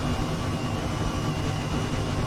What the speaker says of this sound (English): First helicopter we've seen in the simulator